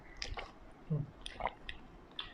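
Someone close by chews and bites into a large chicken drumstick, with soft wet squishy munching and a few sharper bites at irregular intervals, quiet and near.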